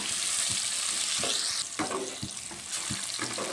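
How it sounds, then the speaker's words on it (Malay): Holland onions frying with a little salt in a pan until lightly golden: a steady, close sizzle with scraping stirring strokes and soft clatters throughout, no talking. "Biar bawang kita masak kekuningan sedikit ya."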